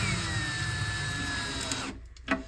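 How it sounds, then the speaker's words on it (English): A power drill or driver runs steadily, close and loud, screwing screws back into a Lithonia 70-watt metal halide mini wall pack fixture, then stops abruptly near the end, leaving a couple of brief clicks and handling sounds. "And we will screw these screws back in."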